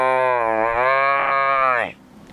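A child imitates a buffalo's call with one long, loud, close, drawn-out moo that holds steady for nearly two seconds before breaking off.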